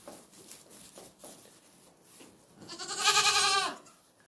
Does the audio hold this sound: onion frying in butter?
no